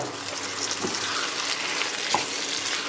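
Fresh tomatoes sizzle and crackle steadily in a hot pan with fried onion and carrot, with a couple of soft stirring scrapes and no talking.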